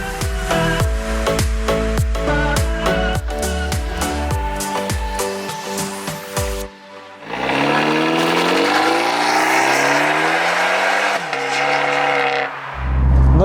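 Abarth 124 Spider roadster driving with the roof down, its loud exhaust first burbling in choppy pulses, then cutting out briefly before a long, rising, raspy drone as the engine revs through a gear, swelling again at the end.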